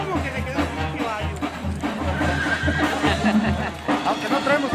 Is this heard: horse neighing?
yes